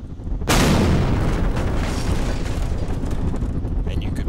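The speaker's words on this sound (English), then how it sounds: "this particular fin plane has rockets from the G-Bombs pack that you can add that will actually fire" Rockets from the G-Bombs pack fire off a fin plane in a building video game, starting with a sudden loud blast that rolls into a sustained roaring burn, dense and close, fading slightly toward the end.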